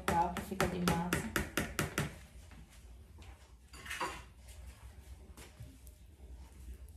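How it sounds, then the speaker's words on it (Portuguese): A mixer beater coated in banana cake batter is rapped against a bowl's rim, a fast run of about eight loud, close metallic taps, then softer handling clatter and a brief scrape. "Vou dar uma batidinha aqui pra soltar, que fica de massa."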